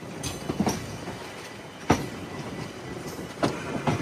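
Andaman Express rolling slowly along the rails, a steady low rumble broken by sparse clickety-clack wheel thumps over rail joints, heard from inside with no talking.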